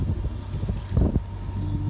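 A boat engine drones steadily at close range, with gusts of wind buffeting the microphone throughout.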